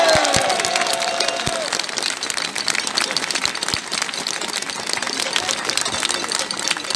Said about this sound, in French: je vous prie d'applaudir avec un tonnerre d'applaudissements Philippe Murer.